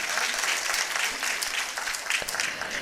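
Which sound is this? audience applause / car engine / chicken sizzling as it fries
audience applause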